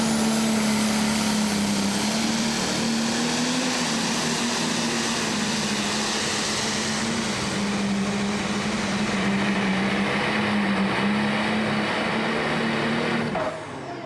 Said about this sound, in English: we see Peter Norton on the line here, the tractor Money on Black.